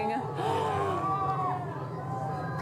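A crowd watching an annular solar eclipse cheers and gasps, a dense mix of excited shouts, whoops and chatter rising together, with a nearby voice talking over it.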